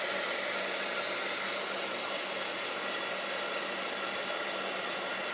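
A hair dryer blows steadily at close range over wet paint on an upcycled DIY piece, a constant loud whooshing hiss with no breaks.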